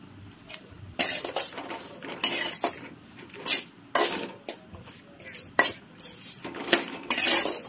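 Ivy gourd (kovakkai) frying in oil with chilli powder in a pan, heard as repeated metal clinks and scrapes of a utensil stirring against the pan in irregular bursts, with a faint sizzle between.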